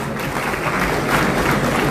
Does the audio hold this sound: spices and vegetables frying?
no